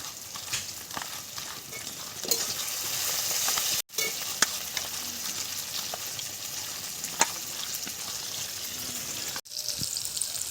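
Spice masala frying in mustard oil in a pan, a steady close sizzle with occasional stirring scrapes, no talk.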